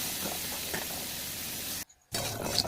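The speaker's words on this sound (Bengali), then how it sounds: "নুন আর হলুদ দিয়ে ভালো করে ভেজে নেব" Bitter gourd frying in oil with salt and turmeric in a home kitchen, giving a steady close hiss and sizzle with a brief silent gap near the end.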